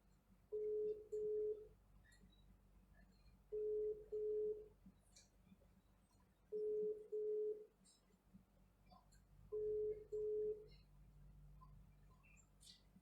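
Four double-burst ringback tones of an outgoing phone call repeat evenly at about three-second intervals, clear over a faint background with soft bird chirps.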